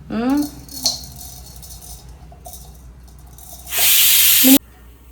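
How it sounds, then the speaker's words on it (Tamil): A mixer grinder whirs loudly for about a second near the end, a harsh burst of grinding spices to powder that cuts off abruptly, after brief speech. "இது எல்லாத்தையும் நம்ம இப்போ மிக்ஸி ஜாரில் போட்டு பவுடர் பண்ணிடலாம்."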